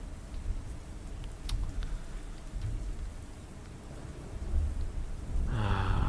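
Steady rain pours in a VRChat game world at night, with low rumbles of thunder rolling underneath and a louder swell of rain and thunder toward the end.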